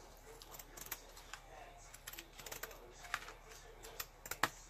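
A country-style Christmas decor piece is cut out by hand. A quiet, irregular run of soft snips and clicks is heard up close, with no speech.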